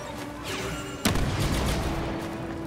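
Grenade blast in Star Wars Battlefront 2 multiplayer on Xbox One X: one sharp, close explosion cracks out amid ongoing battle noise and leaves a rough, rumbling tail.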